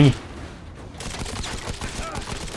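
Rapid automatic gunfire from the mobile shooter Modern Combat 5, played in a rainy level: a steady stream of sharp shots that runs for about a second and a half after a brief opening sound.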